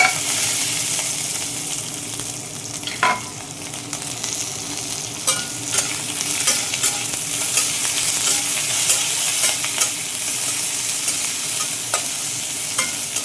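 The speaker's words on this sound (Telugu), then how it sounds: "ఇలా ఒక్క నిమిషం పాటు వేయించుకోవాలన్నమాట మాడిపోకుండా వేయించుకోవాలి" Green chillies and curry leaves sputter in a hot oil tempering. A dense, crackling sizzle carries on throughout, with scattered pops and occasional stirring clicks. It is close and fairly loud, and no one speaks.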